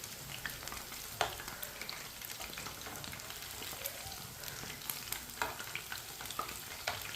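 Chicken sizzles and fries steadily in a pan as it browns on both sides, with continuous crackling and occasional stirring clinks, close and fairly loud, with no talk over it.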